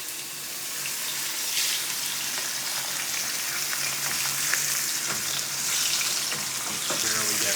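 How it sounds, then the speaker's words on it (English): Meat sizzles steadily in a hot pan after being laid in fat side down, a loud continuous frying hiss lasting throughout with no speech. "And now we're ready to sear. I get a video of me laying down the fat side first."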